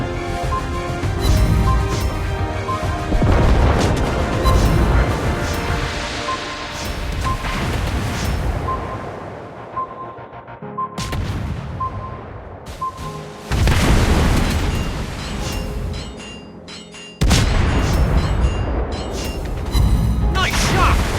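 Repeated heavy booms of torpedo and naval explosions in World of Warships Blitz, loud bursts separated by brief gaps over continuous game music and battle noise.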